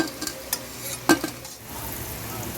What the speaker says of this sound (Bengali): ছোট ছোট করে বড়াগুলো ভাজা করছি